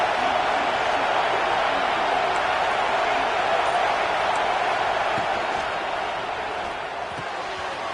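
A football stadium crowd roars as a broad, sustained wash of noise, loud and steady, fading slightly toward the end, with a broadcaster's voice audible over it.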